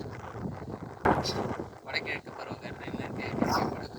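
Gusty wind on a mountain trek buffets the microphone in rough, low bursts while people talk over it outdoors.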